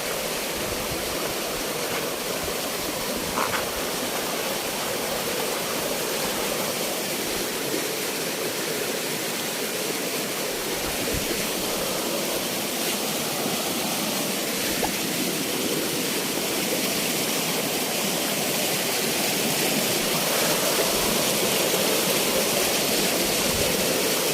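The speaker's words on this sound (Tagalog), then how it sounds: "Talagang binabaybay natin yung ilog" A river flows in a steady, broad rushing roar, constant and fairly close throughout, with no voices heard.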